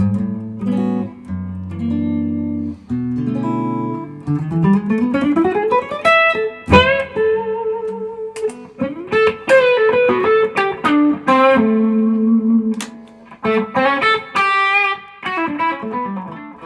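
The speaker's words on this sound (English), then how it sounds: "One of my favorite things about these Fractal units is the reverb." Electric guitar through a Fractal FM3 unit plays chords and single-note lines with a lush reverb tail, notes ringing and overlapping, moderately loud with no voices.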